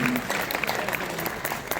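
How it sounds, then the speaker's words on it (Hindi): Loud applause from the audience at an international music program as a guest is invited on stage, dense steady clapping filling the room throughout with a faint voice underneath. "जोरदार तालियां"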